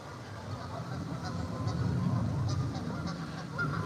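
Geese honk repeatedly at a distance by a pond near a waterfall over a busy, rumbling outdoor background, the calls moderately faint but clearly recurring.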